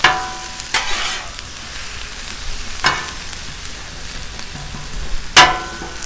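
Cajun shrimp and smoked sausage sizzle on a Blackstone griddle while a spatula scrapes and stirs. Several sharp, loud metal scrapes stand out over a continuous close frying hiss, with no talking.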